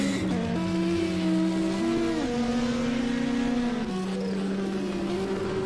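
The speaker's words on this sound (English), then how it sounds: "Turbocharged engine, makes a wonderful sound" A turbocharged Audi S1 race car at a European Hill Climb Championship round climbs with a loud, close engine note. It revs hard through several gear shifts, the pitch rising and dropping in steps with no talk.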